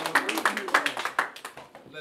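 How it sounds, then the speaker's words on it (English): Audience at a rap battle league event clapping in a quick, fairly steady rhythm, close and bright, with no speech over the claps. "Right, clap it up for City, y'all."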